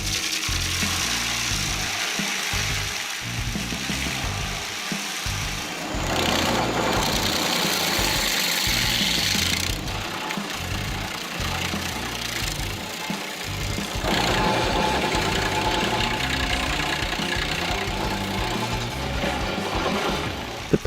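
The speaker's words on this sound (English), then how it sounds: "The power of this Vortex skid steer tree stump grinder makes tree root removal simpler and faster than ever." A Vortex skid steer stump grinder attachment with a piston motor runs steadily, grinding tree stumps and roots with a loud, dense mechanical roar that shifts in intensity and pitch as the cutter bites in and eases off.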